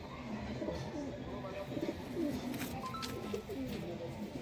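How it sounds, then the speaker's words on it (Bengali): High-flying pigeons cooing continuously in a loft, with overlapping low throaty coos repeating close by, against faint background voices and noise. "দেখুন বন্ধ লেজের পায়রা পুরো"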